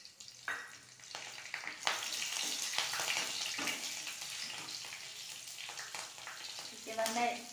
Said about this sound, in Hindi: जो भी मेरे खड़े मसाले हैं और तेजपत्ते, हरी मिर्ची, उसे मैं डाल देती हूँ।